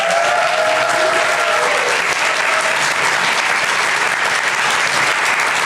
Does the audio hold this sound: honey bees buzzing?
no